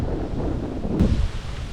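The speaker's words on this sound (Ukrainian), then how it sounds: "От вітер цей." Gusty wind buffets the microphone outdoors near beehives, a loud, rumbling roar that rises and falls throughout.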